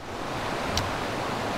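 A small river flowing past a mound in its middle, heard as a steady broadband rush of moving water, close and continuous, without voices.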